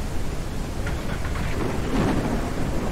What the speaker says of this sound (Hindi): बड़ी बड़ी तूफानी बारिश हो रही है